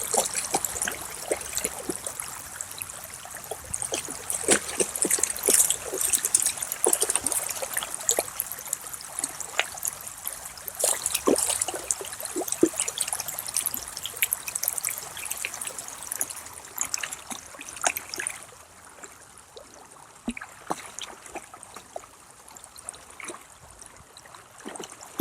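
A mountain river stream flows over rocks, a steady close rush of water with bright trickling and gurgling detail throughout, easing a little toward the end.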